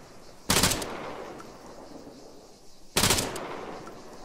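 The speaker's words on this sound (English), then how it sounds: "so let's lay down some covering fire" Automatic weapon fire in the shooter game Argo: two separate loud bursts about two and a half seconds apart, each sharp and ringing briefly before fading, with no voices.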